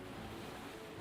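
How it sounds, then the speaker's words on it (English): Waves break against a rocky shore in the Snowbreak: Containment Zone video game, a faint, steady wash of surf with a wind-like hiss and no voices. "I could distinctly hear the sound of waves crashing against the rocky shore"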